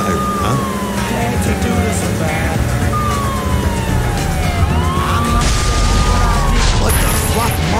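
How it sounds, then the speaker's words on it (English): A police siren wails steadily in True Crime: New York City on PS2, rising and falling over constant traffic and engine noise, loud and close. "How about using that siren,"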